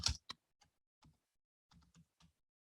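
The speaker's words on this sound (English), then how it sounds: "So I'll just type my Skype address." Quiet, sparse keyboard typing: a burst of key taps at the start, then isolated clicks spaced irregularly over a couple of seconds, entering a Skype address in an otherwise silent room.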